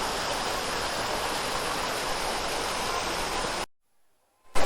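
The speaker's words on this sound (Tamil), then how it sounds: "இங்கே பார்த்தீங்கன்னா ஒரு வாட்டர் ஃபால்ஸ் இருக்குது." The Sahastradhara waterfall near Dehradun gives a loud, steady rushing roar of falling water that cuts off abruptly into near silence, followed by a short burst of sound at the end.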